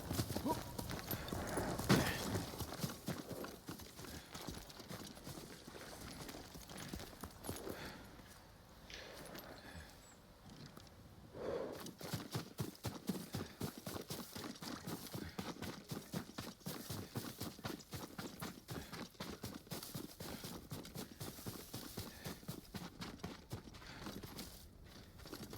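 Horse hooves clip-clop steadily in Ghost of Tsushima, a continuous walking rhythm of a riderless horse, moderately close, running under ambient game sound with occasional voices.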